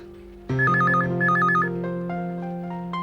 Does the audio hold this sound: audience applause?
no